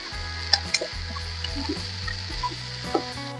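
Steady sizzling of plantain frying in a pan, with occasional clicks and scrapes from stirring, close by and moderately loud, with no talking.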